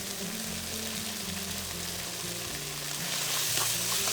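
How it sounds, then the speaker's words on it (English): Mapo tofu sauce with doubanjiang, Sichuan peppercorn powder and sugar frying in a wok, a loud, close, continuous sizzle with a low bubbling rumble, no speech. "Fry all this for another 30 seconds."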